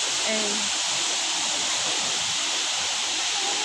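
Tad Yueang waterfall pours as a constant broad hiss of rushing water, steady and fairly near, with a brief voice fragment near the start.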